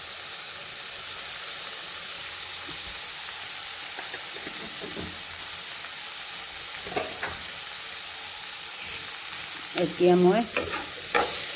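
Vegetables with turmeric and red chili for pasta fry under a steady hiss while being stirred, with scattered scraping clicks building toward the end. A voice speaks briefly near the close.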